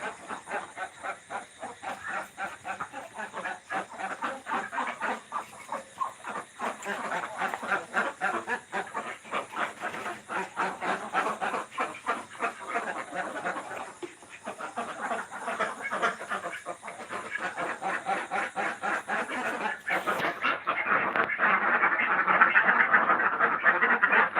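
Many domestic ducks quack steadily on a farm, a dense, continuous chorus of overlapping calls that swells louder toward the end with no talking.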